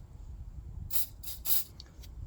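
Short bursts of silicone spray applied to the brake light locating pegs of a Ford Fiesta Mk 7, three close hissing spurts followed by a faint tiny puff over quiet background.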